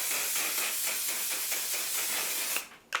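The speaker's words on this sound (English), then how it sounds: "let's just try it now" One Size Until Dawn mattifying setting spray hisses in a steady, continuous burst for about two and a half seconds, close and fairly loud, then stops abruptly with a brief faint rustle afterward.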